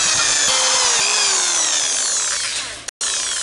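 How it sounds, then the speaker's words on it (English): A power drill bores through a plastic cap and plate while building a homemade splasher prop thumper fishing lure; a loud, steady close-up whine with rising pitch, a brief cutout near the end, then the motor resumes. "I'm gonna drill all the way through the cap, through the plate"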